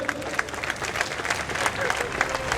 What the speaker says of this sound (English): let us welcome with a thunderous applause a true ISCO Aadhar Stambh, Mr. Rajendra Pai.